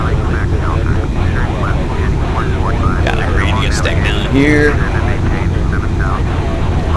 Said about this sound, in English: This is the first time I'm flying this particular aircraft, the Tupolev 154.